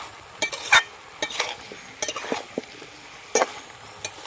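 A spoon stirs jackfruit, potato, spices and sugar in a pan, making a series of close scraping strokes and clinks over a faint sizzle, irregular and spread through the clip.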